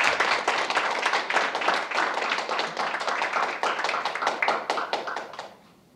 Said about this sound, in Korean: 힘찬 박수로 맞아주시기 바랍니다